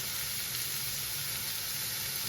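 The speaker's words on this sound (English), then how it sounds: "You should hear that sizzle." A burger patty sizzles in a hot pan, a continuous close hiss that stays even and fairly loud from start to finish, with no voices over it.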